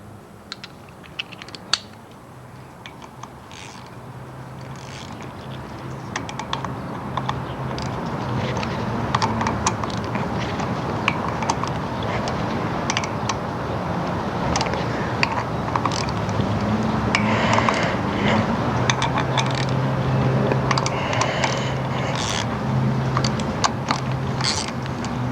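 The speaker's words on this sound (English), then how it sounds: "now we're getting into tightening down by ratchet territory" Ratchet clicking steadily while bolts are tightened down, a continuous run of quick close-up mechanical clicks and rattles that rises in level after the first few seconds and carries on throughout.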